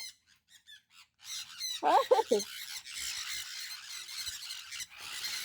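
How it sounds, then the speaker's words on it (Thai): A pet bird gives loud, harsh angry squawks and squeals in a short burst of repeated calls, followed by continued agitated noise, with people talking nearby. "มันโกรธมากวันนี้ที่เราไม่ให้อาหารมันอะแล้วมาเกาะฟี"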